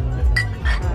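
Ice cubes dropping into a glass at a Vietnamese wedding banquet in Ho Chi Minh City, two quick bright clinks close by over a low murmur of the room.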